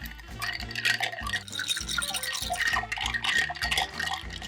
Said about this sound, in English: we're gonna use the spoon they sent us to stir.